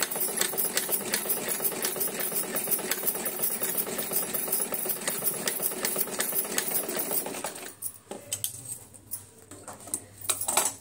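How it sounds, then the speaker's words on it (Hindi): Sewing machine running steadily while stitching the sleeve of a designer blouse, with a dense mechanical whir and rapid needle clatter that breaks off near the end, leaving lighter rattling, close and without talk. "मैंने पक्की सिलाई मार दी है बाजू में।"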